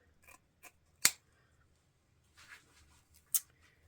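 Scissors snipping through deco mesh ribbon at an angle while making a wreath, a few soft crisp cuts with one sharp near snip and quieter clips after.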